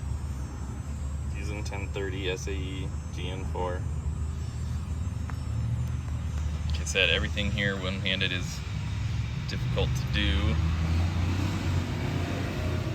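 Steady road traffic from a very busy street rumbles continuously in the background, with passing cars and engine noise, while someone talks throughout during a 2022 Honda CRF 110F oil change.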